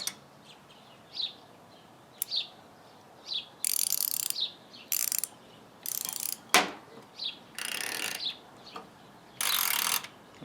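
A ratcheting wrench clicks in short bursts, some long and buzzy, with sharp separate ticks between them, close by and with no talking.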